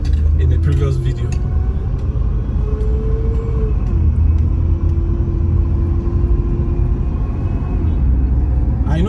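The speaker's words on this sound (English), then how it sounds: "I'm just driving on the major road, so to speak." Continuous low road rumble of a car driving along a major road in Maitama, Abuja, heard from inside, with a faint engine whine and a person talking over it.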